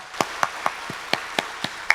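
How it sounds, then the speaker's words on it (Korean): A church congregation at an early-morning revival service claps in slow, spaced single claps, about eight distinct hand claps at an even rhythm, fairly faint with no talk. "우리 아이들 축복의 박수 보냅니다"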